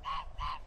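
Birds at Lake Guyatt give two loud, close honking calls in quick succession, each lasting about a quarter second, with a short gap between them.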